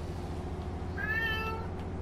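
A cat meows once, a short rising-falling call heard faintly over a steady low engine hum in the background.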